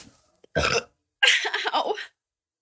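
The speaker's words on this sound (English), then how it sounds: "That is the first time I burped during this live." Two loud, close burps from a woman after carbonated drinks, a short one followed by a longer, rumbling one, alone with no talk.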